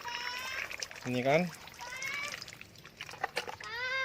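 Rice-washing water poured onto the porous growing medium of potted orchids, a soft splashing trickle heard between spells of nearby talk, including a voice.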